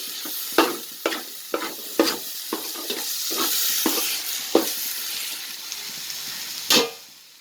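Ingredients for chicken biryani sauté in a pan, with a constant hiss of frying under irregular spatula scrapes and knocks, close, with no talking.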